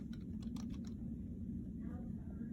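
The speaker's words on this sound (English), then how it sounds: "I'm going to come down here to this little search bar again, and I'm going to type in workplace" A few quick keystrokes on a computer keyboard as a search term goes into a search bar, light clicks near the start and a soft patter later, heard close over a low steady hum.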